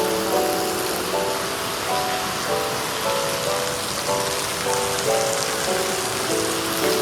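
A heavy village downpour hisses loudly and steadily throughout, dense raindrops drumming on surfaces, with a faint repeating tonal pattern in the background and no talking.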